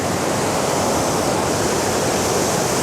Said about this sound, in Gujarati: બહુ ઝડપની અંદર પાણી નીકળે